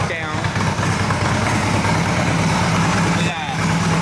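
A built Harley motorcycle engine that had sat unridden for over a year runs steadily on E85 fuel, a loud, close, rumbling drone with no break.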